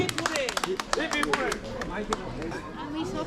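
Audience clapping at a prize-giving during a performance event at a bungalow in Kolaghat, a busy patter of claps close by with voices talking over it throughout.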